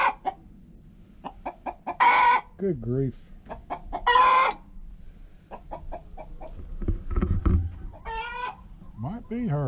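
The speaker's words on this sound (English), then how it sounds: "You could be a rooster." A chicken clucks in quick rhythmic bursts and lets out several loud, strained crow-like calls that resemble a rooster's crowing, close by, while a person talks briefly between the calls.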